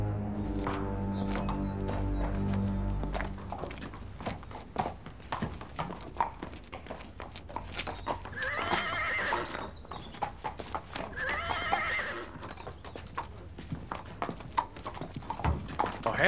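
Horses clip-clop with a dense patter of hooves, and two clear whinnies rise above it midway through. The hooves keep going under faint background noise.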